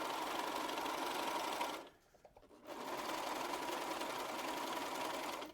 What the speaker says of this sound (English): Then you keep sewing.